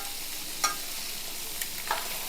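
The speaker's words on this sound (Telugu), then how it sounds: "ఇలా మళ్ళీ ఇటు సైడ్ కూడా 2 వైపులా కూడా వేపుకోవాలండి" Eggs fry with black pepper in a pan, giving a steady close sizzle with a few brief scraping stirs. No one speaks.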